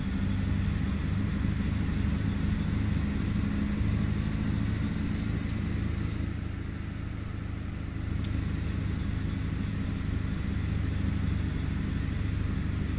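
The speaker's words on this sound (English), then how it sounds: "It is a nice beefy sound, so even when you're downshifting, it still sounds good." Cat 3408E diesel engine of a Peterbilt 379 cattle hauler with air start in a truck-driving video game, a steady low, beefy drone that rumbles on without a break.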